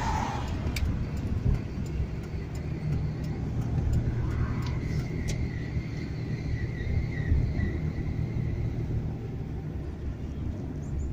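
Car exiting the S1 expressway at the Ząbkowice junction: a steady, low road-and-engine rumble with tyre noise throughout, fairly close and even.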